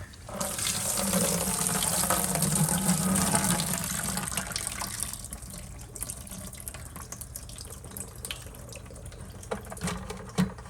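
Gasoline mixed with diesel draining out of a 2011 Ford Escape 3.0 fuel system, a steady splashing pour that runs strong at first, then thins to a lighter trickle with occasional drips.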